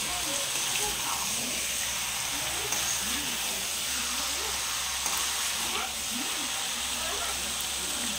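Potatoes and spices fry in a pan for a desi chicken curry, giving a steady broadband sizzle and hiss that runs through the whole stretch, close and moderately loud, with faint voice-like murmurs beneath.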